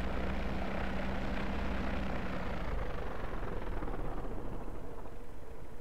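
A small airplane engine throttles down while landing, a steady propeller drone whose tone eases lower and fades slightly over several seconds, heard from inside the aircraft without talk.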